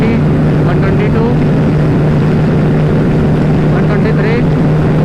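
A motorcycle engine drones steadily and loudly in fifth gear at high speed during a drag race between a 2024 Bajaj Pulsar NS160 and a TVS Apache 160 2V, with continuous wind rush and a rider talking over it.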